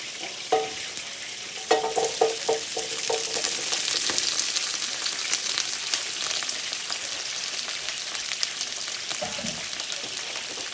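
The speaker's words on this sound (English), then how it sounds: "You hear me frying chicken." Loud, steady frying sizzle of chicken with crackling pops, broken early by a few metallic clinks and scraping as pieces are stirred in the pan.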